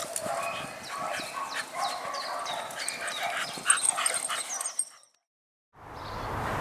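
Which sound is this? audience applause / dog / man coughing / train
dog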